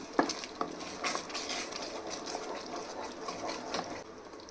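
A spoon stirring dried fenugreek leaves into Kashmiri dum aloo in a pan, giving soft continuous scraping with light clinks and a faint sizzle at low volume.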